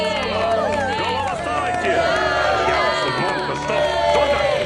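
Crowd cheering and applause greet a presidential declaration in the political strategy game Republic: The Revolution, a loud, dense roar of voices and clapping running steadily throughout.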